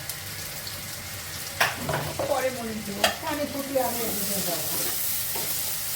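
Onions frying and being stirred in a pan, with a steady sizzle and a few scraping strokes partway through, and brief speech in the background.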